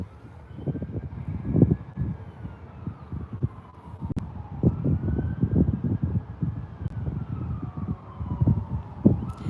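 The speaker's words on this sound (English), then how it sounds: "I hear sirens in the distance" A faint siren wails in slow rising and falling sweeps far off, over a low rumbling background.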